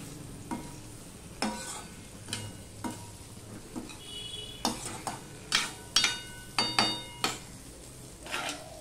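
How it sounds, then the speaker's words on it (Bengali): Ridge gourd and Bata fish masala being stirred and sautéed in a pan, with repeated spatula scrapes and taps against the pan at an uneven rhythm over a quiet background sizzle, close and alone. "এবার ঝিঙের সাথে সম্পূর্ণটা মিশিয়ে নিয়ে আমি আবারও ভালো করে কষিয়ে নেব।"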